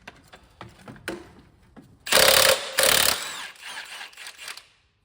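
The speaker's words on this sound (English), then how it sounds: "Now we need to undo our bottom bolt," An 18mm bottom bolt is undone during a Citroen 1.2 wet cambelt replacement: scattered light clicks and taps, then two loud, harsh bursts about a second long each, followed by fading mechanical rattling.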